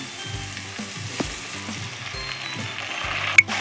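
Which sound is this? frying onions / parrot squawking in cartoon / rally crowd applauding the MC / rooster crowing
frying onions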